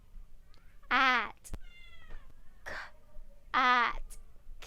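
A cat gives two clear, loud meows about three seconds apart, each short and rising, with faint clicks and a soft voice fragment in between.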